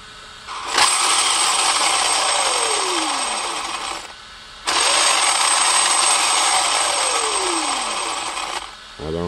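An Arrma Kraton RC car motor with a Castle speed controller spins up twice as the trigger is pulled. Each burst is a loud, close whine whose pitch sweeps downward, separated by a brief pause.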